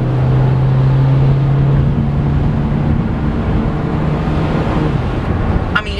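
A 2013 Honda Fit Base driven at night on a wet road, its engine a steady low drone with tire hiss and road noise throughout, fairly close and even, with no talking.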